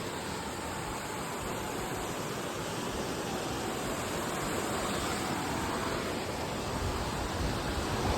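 River water rushes steadily past a riverside spot, on its way to join the river at Sangameshwar. The wash of flowing water is loud, even and unbroken throughout, with no voices.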